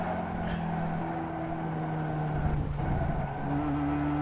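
A racing video game car on the Okayama short circuit brakes hard and understeers through a turn, its steady engine drone holding under a faint tire scrub with no talking.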